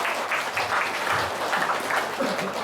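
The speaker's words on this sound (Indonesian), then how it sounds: "Tepuk tangan untuk kita semua." Audience applause at a religious gathering of kiai and ustadz in Jogja, a steady dense wash of clapping filling the whole stretch at moderate loudness.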